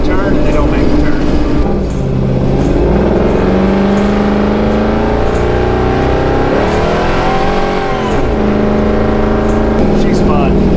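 An off-road vehicle's engine droning loud and steady as it drives across sand dunes, the pitch rising and falling with the throttle, heard from up close, with people talking over it.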